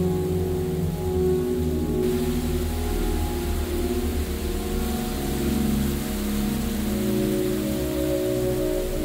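Artificial rain falls steadily inside the Rain Room art installation, a continuous dense patter over a low mechanical hum, with a tonal drone running throughout.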